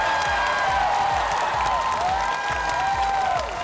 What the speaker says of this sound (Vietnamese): Một tràng pháo tay thật to dành cho Lê Đình Minh Ngọc và huấn luyện viên Vũ Hà